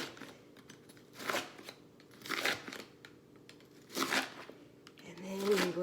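A Pampered Chef kitchen tool cuts through kale for an Asian kale salad, giving four crunchy, tearing chops spaced about a second apart, close and moderately loud, with a faint low hum underneath.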